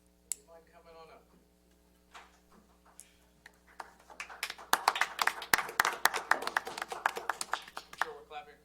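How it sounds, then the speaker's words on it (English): At a town council meeting in Mount Olive, an audience breaks into scattered then fuller clapping that builds over several seconds, following brief talk and room noise with a steady hum underneath. "I'm sure we're clapping because we know what they did"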